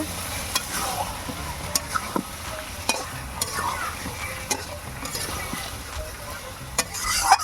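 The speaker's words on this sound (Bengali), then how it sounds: "এবারে আমি একটু কষবো" Meat being stir-fried for biryani in a pan, stirred with a spatula so it sizzles steadily, with repeated clicks and scrapes of the utensil against the pan throughout.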